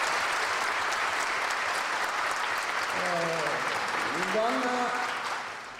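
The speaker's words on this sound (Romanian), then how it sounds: "Vă rog să vă aplaudați." Audience applause at a university graduation ceremony in Arad honoring a professor, a steady wash of many hands clapping throughout while a voice speaks briefly over it midway.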